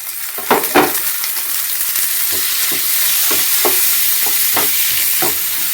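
Tomatoes fry in a pan under a steady, close sizzle, broken by repeated scraping stirs of a utensil through the pan.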